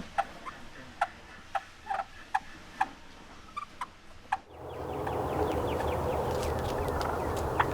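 Sharp, sparse turkey clucks from a friction call tick out one by one at an uneven pace, followed by a steady rushing hiss.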